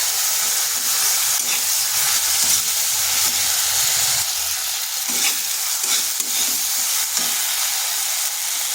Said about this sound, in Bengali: দিয়ে দিচ্ছি বেটে রাখা মশলাটা